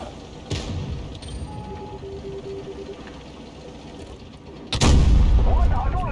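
A tank cannon fires in World of Tanks Blitz, a loud sudden boom with a rumbling tail, heard against the continuous game background after quieter engine and battle noise.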